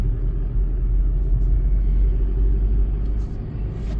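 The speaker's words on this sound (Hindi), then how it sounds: "ये देखो ये कितना तेज तूफान है" Strong wind storm blowing sand and dust through cold mountains, a steady, heavy low roar buffeting continuously with no breaks, loud and close throughout.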